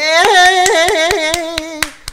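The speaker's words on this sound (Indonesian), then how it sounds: "Kita tepuk tangan dulu ya semuanya" Sharp, evenly spaced hand claps ring out at a lively public event, about eight of them in a steady rhythm under a sustained sung or hummed voice that holds a tone and then fades.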